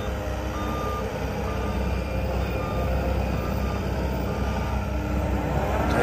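A John Deere 331G loader backs up, its reversing alarm beeping in a steady, evenly spaced series over a loud, continuous engine drone.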